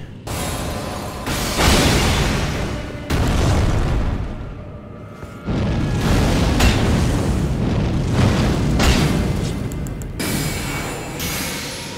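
Heavy steel boulders crash and rumble in Elden Ring, with loud booming impacts and grinding mechanical clatter in long rolling bursts and a short lull midway.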